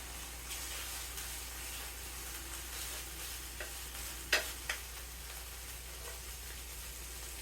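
Half a pound of ground beef frying in a pan while being stirred, a steady quiet sizzle broken by a few sharp scrapes of the utensil partway through, with no talk.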